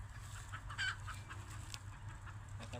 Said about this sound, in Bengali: বাহ, দেশি মুরগি